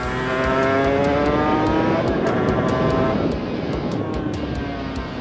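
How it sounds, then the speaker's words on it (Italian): Suzuki RGV 250 two-stroke motorcycle exhaust ridden on the road, a loud, close, continuous buzzing engine note that rises in pitch through the gears with brief shift dips, no speech. "Sentite lo scarico, che rumore che fa, bellissimo."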